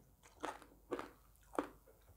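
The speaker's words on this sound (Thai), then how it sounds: "เดี๋ยวเบิ่งว่ามันกรอบดีปานใดข่อยคิดว่ามันกรอบ" Close, crisp crunching of deep-fried Thai pork being bitten and chewed, three distinct crunchy bites spaced about half a second apart with quiet gaps between.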